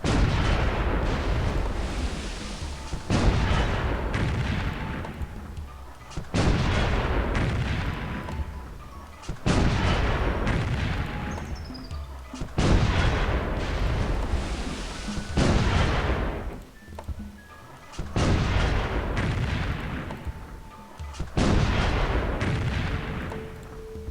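Repeated heavy naval artillery salvos in a World War II battle against Bismarck battleships in the strategy game Civilization III, each a loud booming blast with a rumbling tail, evenly spaced over roughly half a minute.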